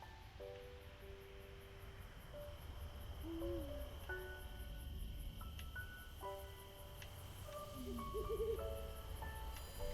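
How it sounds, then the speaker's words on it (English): Cicadas and crickets chirping outdoors, a steady high insect drone in the background with faint scattered tonal calls and low rumbling ambience, no voices. "Got the beautiful sound of cicadas and crickets in the background."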